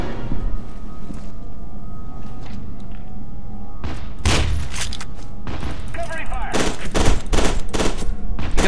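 Gunfire in the shooter F.E.A.R. 2: loud, sharp bursts with heavy booming impacts that grow denser toward the end, mixed with game voices and background sound.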